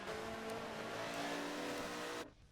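A light Porsche GT race car at Sebring International Raceway, racing in the 2023 GT World Challenge. Its loud, steady engine roar holds strong, then cuts off abruptly near the end.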